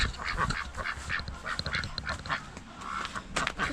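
Farm ducks quack repeatedly in a busy, overlapping chorus, close and fairly loud, with short nasal calls coming in quick bursts and no talking.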